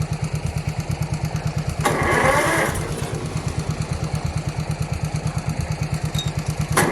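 A small compact tractor engine (420U or 430U) chugs in a rapid, even idle rhythm up close, with a louder surge of noise briefly near the start before settling back to a steady idle.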